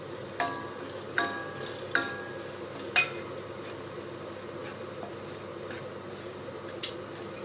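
Onion, tomato and curry powder sautéing in a pan for fish curry, a soft low sizzle broken by several sharp spoon clicks against the pan as the mixture is stirred.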